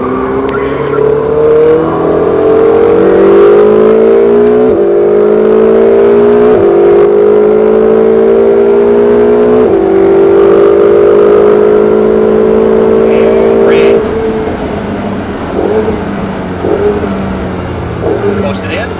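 A Ferrari 488 GTB's engine on a SpeedVegas track roars loudly and close, climbing in pitch through repeated upshifts with brief dips between gears, then easing off near the end.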